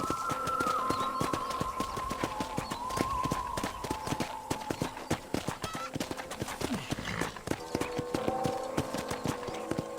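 Horse hooves clip-clop steadily in Red Dead Redemption, a regular near rhythm of hoof strikes running the whole way through, set against game music and background ambience with an occasional whinny.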